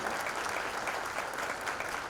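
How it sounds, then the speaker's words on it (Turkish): Crowd applause at a foundation-laying ceremony, a steady, fairly distant wash of many hands clapping without pause. "Kendinizi bir alkışlayın diyorum"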